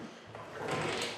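Double closet door in a modest bedroom of an abandoned 1980s estate home opens or closes with a soft wooden slide and rattle, fairly close and alone, lasting about a second.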